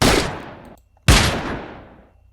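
Two pistol gunshot sound effects play for a gunfight mix, each a loud sharp crack followed by a long booming decay, close and alone, about a second apart.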